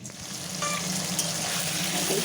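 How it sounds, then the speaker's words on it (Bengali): Potatoes frying in a pan give a steady, dense close sizzle for a couple of seconds, with no talk. "আলুটা ভাজা হচ্ছে এখন"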